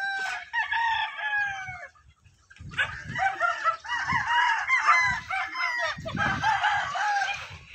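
Chickens and roosters at a game farm crow loudly and repeatedly up close, several birds overlapping in long cock-a-doodle-doo calls with clucking between, and no talking.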